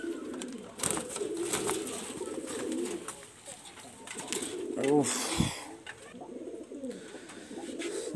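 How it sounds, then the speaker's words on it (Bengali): A female Chhalara-breed pigeon gives soft, faint cooing close by, with a few low throaty coos over quiet background noise. "খুবই ভালো মানের একটা ফিমেল কবুতর"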